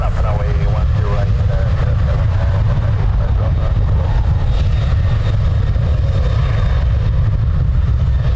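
An airliner takes off from runway 10 right at Dublin Airport, its engines a loud, sustained roar filling the whole stretch, with voices faintly present beneath it.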